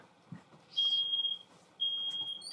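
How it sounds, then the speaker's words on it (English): A smoke detector or fire alarm goes off in a hallway, giving two long, piercing high-pitched beeps that sound close and stand out over faint background noise. "it sounded like it was a fire alarm or a smoke detector going off in his hallway"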